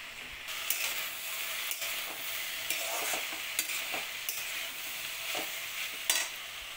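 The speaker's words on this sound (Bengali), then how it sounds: "এবার একটু নেড়ে চেড়ে মটরশুঁটি আর কাঁচা লঙ্কা দিয়ে দেবো।" Peas and green chillies being stirred in a frying pan for a spring onion chorchori, a soft continuous sizzle broken by repeated scraping strokes of a spatula, close and moderately quiet.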